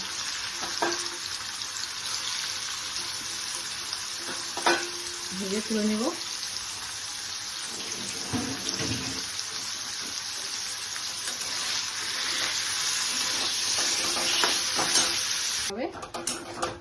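Paneer cubes fry in hot oil in a pan for a Bengali-style paneer biryani, giving a steady close sizzle with a few brief tonal sounds and soft utensil clinks partway through.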